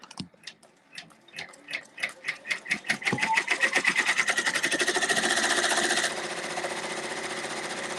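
A multi-needle embroidery machine sews placement stitches for an in-the-hoop project: sparse ticking stitches speed into a dense, steady mechanical rattle that sustains loudly to the end.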